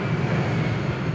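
An airplane flies overhead, giving a steady, moderately loud low roar with a droning hum throughout a short moment.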